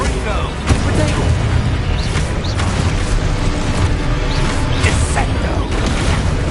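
Spells being cast in Hogwarts Legacy, a dense, loud run of magical blasts, booms and crashes layered over one another, with a voice talking over the noise throughout.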